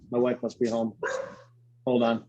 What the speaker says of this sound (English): I think my dogs are going to bark